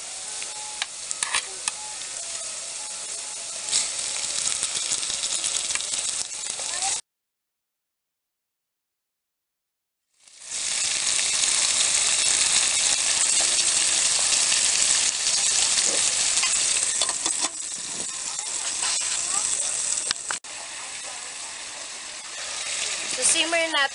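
Yellowfin fish sizzles and crackles in a hot pan with a bright hissing texture, breaking off into a few seconds of silence before the frying resumes, loud and steady, with a brief stirring clatter.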